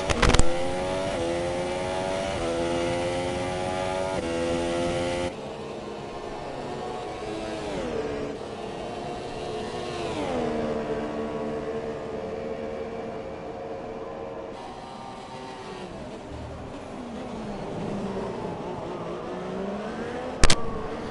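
F1 race cars race in the video game F1 2017 at the Brazilian Grand Prix, with sustained high engine whines that rise and fall through gear changes as cars pass close together.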